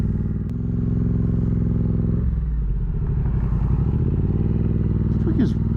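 A 2023 Triumph Speed Twin 900 motorcycle rumbles steadily while being ridden, its engine tone shifting as the pace changes, with a rider's voice speaking over the continuous drone.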